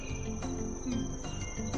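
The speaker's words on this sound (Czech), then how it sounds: "Hele, to je veliký cvrček." Cartoon cricket chirping steadily in a continuous high trill with soft pulsing, fairly loud and close, with a low background hum and no talking.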